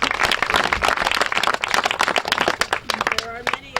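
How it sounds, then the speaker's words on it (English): A crowd claps in a dense patter of applause at a Champlain Monument event in Plattsburgh, while a voice talks over it near the end. "So if we would give them applause for"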